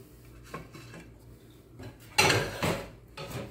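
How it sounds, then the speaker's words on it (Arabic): Sauce is stirred in a pan while making pizza, producing a few scraping clinks of a utensil against the metal, with two louder stirring bursts near the end, close and otherwise quiet. "بعدين بندور الصلصة"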